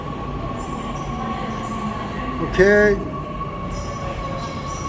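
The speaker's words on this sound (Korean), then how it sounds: "이제 오네 열차 오네" A train pulls into a station with a steady rumble, then a brief tonal squeal or horn blast partway through before the rumble carries on, close and loud. A voice speaks briefly.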